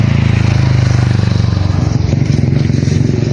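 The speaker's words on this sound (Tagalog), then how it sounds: "Maraming motor dito." A motorcycle engine drones loudly and steadily close by on the road, its low, buzzing note holding throughout with some rattling texture and no voices.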